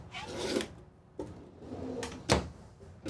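Kitchen drawers in the living quarters of a Cimarron Norstar 4-horse trailer slide open and shut, giving several wooden rolling rumbles and soft thuds spaced over a few seconds, close and moderately loud with no talking.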